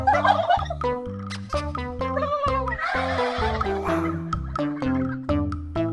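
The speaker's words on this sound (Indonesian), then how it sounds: "Widih, ada kalkun." A turkey gobbles loudly and close by in a rapid, rattling series of throaty calls with repeated harmonic bursts, continuing through the whole stretch with no talking.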